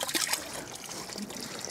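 Trickling water from a small cold spring on the bank of the Rogostinka river, a steady soft babble heard close by with no voices.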